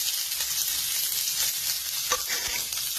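Chopped ingredients hitting hot oil with popped mustard seeds, a bright, steady sizzle with small crackles and the occasional stir, close and continuous with no talking.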